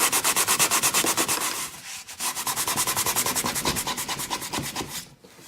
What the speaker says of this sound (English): So we'll just keep sanding it hard and get it over with